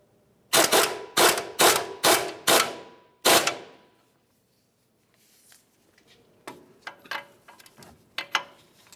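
Sharp ratchet clicks in a rapid burst tighten and torque a nut on the upper control arm of a 2005-2010 Dodge Dakota. After a quiet gap come scattered lighter clinks and handling noises, with no talking.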